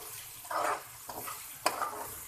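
Carrots and medium potato pieces being stirred into browned minced mutton in a pan, with soft sizzling and a few scraping stirs, close and fairly quiet with no talk.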